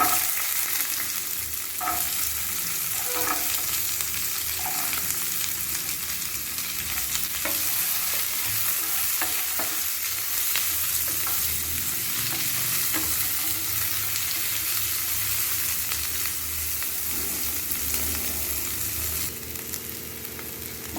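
Onions and fennel seeds sautéing in hot oil for a mushroom capsicum gravy give a continuous close sizzle, with intermittent stirring scrapes throughout and no talking.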